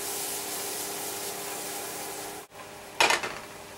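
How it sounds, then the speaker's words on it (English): Butter, onions and garlic sautéing in a pan give a steady, close sizzle, broken by a short clatter of pan or utensil near the end. "We're going to saute that."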